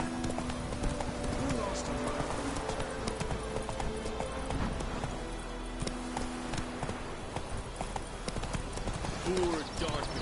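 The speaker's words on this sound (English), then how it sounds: "Run, Roach" Hooves of the horse Roach galloping in the video game The Witcher 3, a steady clip-clop rhythm running throughout under a game soundscape, with someone talking over it.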